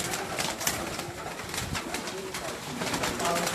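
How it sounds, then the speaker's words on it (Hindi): Teddy pigeons in the lofts of Ustad Chaudhry Sakhi Mohammad Bhatti coo softly amid dense, steady background noise, with faint voices under it. "तो ये देख लें कि ये हैं उस्ताद चौधरी सखी मोहम्मद भट्टी साहब वाले टेडी कबूतर"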